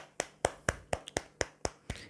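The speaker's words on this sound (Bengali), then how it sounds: "ভেরি গুড হাততালি" About nine sharp, evenly spaced hand claps in quick succession, close and fairly soft, with no voices.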